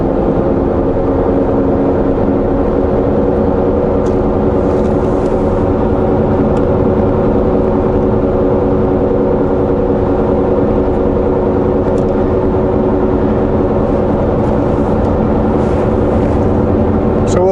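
A day cab truck's engine drones loud and steady from inside the cab, with no clear gear-shift breaks.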